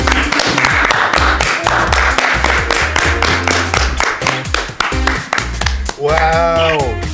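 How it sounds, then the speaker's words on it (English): A small group of people claps together at home, brisk, loud rhythmic handclaps close by, followed near the end by a brief voice. "Everyone clap."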